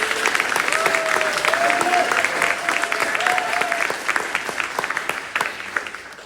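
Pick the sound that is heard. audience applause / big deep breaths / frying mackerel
audience applause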